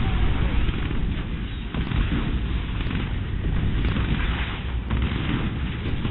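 A barrage of missile explosions in the strategy game Command & Conquer 3 booms and rumbles continuously, loud, dense and overlapping, with a muffled, low-fidelity quality.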